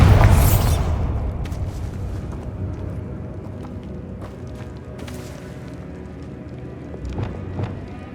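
A Bombarda blast spell cast in Hogwarts Legacy opens with a heavy, loud boom, then a rumbling decay, with scattered crackles and smaller impacts trailing over several seconds.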